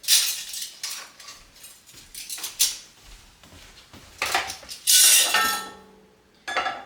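Metal canning jar lids clatter and clink as they are taken out of a box, a run of irregular metallic rattles and scrapes near at hand, with quieter gaps between bursts and no talk.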